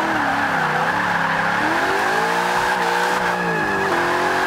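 A Ford Mustang drifting in the racing game Forza 5, its engine note sweeping up and down beneath a sustained loud tire squeal that runs through the whole stretch.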